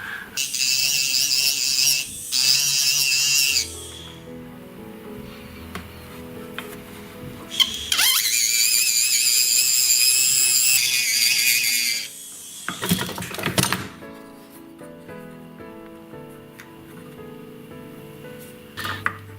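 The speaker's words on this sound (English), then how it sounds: "at this stage I'm going to do some cut work with a tapered setting burr" A tapered setting burr grinds into a garnet ring's claw setting in short, high whirring bursts separated by quiet pauses, close and fairly loud.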